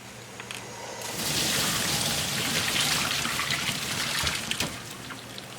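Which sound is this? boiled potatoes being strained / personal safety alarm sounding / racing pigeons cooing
boiled potatoes being strained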